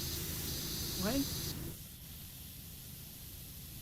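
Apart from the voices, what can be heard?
pressure washer spraying in PowerWash Simulator video game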